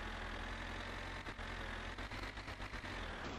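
A tractor engine runs steadily in a snowy setting in My Summer Car, a low continuous drone with faint knocking pulses toward the end, close and alone with no talk.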